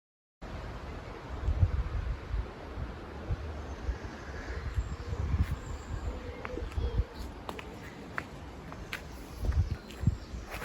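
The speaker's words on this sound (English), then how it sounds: "It was a very windy day." Steady outdoor wind roars and buffets the microphone in gusts, with low rumbling bursts and faint rustling throughout.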